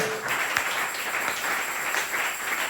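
Congregation at a French-language church sermon applauding, a steady wash of many hands clapping at moderate volume throughout, with no distinct voices.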